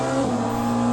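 A Porsche 963 hypercar drives in a racing simulator game, a brief continuous engine drone with a steady, strong tone held through the whole moment.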